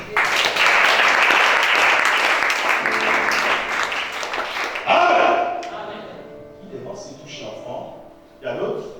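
A church congregation claps and cheers during a preaching service, a dense roar of applause for several seconds that fades as a voice takes over.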